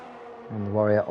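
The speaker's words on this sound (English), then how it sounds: "And someone else is coming out onto the track. It's Hamster in the Ferrari" A Ferrari race car pulls out onto the track at Sochi in a racing video game, its buzzing engine note rising briefly in pitch over about half a second.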